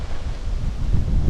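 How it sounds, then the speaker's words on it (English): Wind gusting through bushland during a boar bowhunt, a steady low rumble of buffeting air with faint rustling, close on the microphone and with no voices. "by the time I come back out the sail, that wind's just switched right around"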